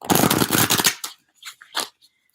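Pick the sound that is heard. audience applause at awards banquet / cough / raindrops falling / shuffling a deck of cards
shuffling a deck of cards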